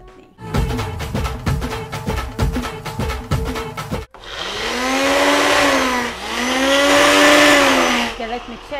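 Electric mixer grinding green chutney, a short pulsed run of rapid whirring bursts followed by a long steady loud motor whine that drops and climbs in pitch as the blades churn.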